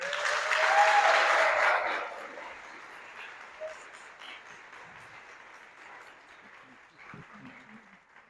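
Audience applause welcoming speaker Connie Wimer at an event, loud at first then fading over a few seconds into a quieter room, with faint murmuring.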